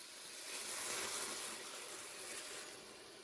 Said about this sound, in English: now what I'm going to do is add 600 ml of boiling water